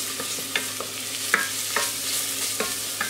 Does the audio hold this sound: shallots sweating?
yes